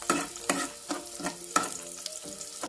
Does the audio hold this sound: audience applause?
no